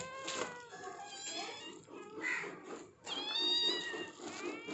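Cat meowing close by in a home with several cats, repeated plaintive meows over about five seconds.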